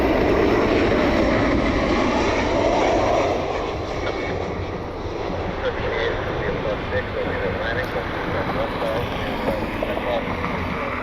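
Steady roar of a jet aircraft on the runway at Cleveland airport in the evening, loud and continuous with wind-like rumble, while people talk faintly underneath.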